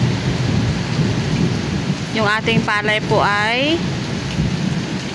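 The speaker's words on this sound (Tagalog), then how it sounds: "kumukulog" Heavy typhoon rain with thunder rumbling during a storm in rural Oriental Mindoro, Philippines: a steady, loud roar of rain and low rumble fill the scene while a person speaks briefly over it.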